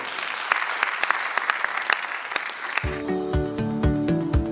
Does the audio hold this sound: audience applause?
yes